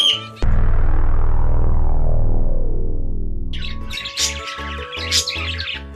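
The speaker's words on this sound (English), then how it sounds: "Cockatiel." A cockatiel squawks in a burst of harsh, rapid, scratchy calls, loud and close, after a long ringing tone decays slowly. A low musical backing plays beneath the squawking.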